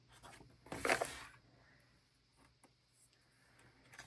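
Trimming stickers on a page of a creative journal: a close, brief burst of snipping and rustling, followed by quiet and a few faint ticks and taps, with no talk.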